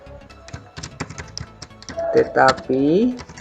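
Keys clatter on a computer keyboard while a text document is typed in WordPad, with an Enter press among the taps, the clicks sounding close and irregular and soon joined by a voice speaking over them.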